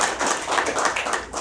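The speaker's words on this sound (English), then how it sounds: "let's give these gentlemen a big round of applause" Brief, steady applause from an audience at a community association meeting, a close, even patter of many hands clapping together for the whole moment.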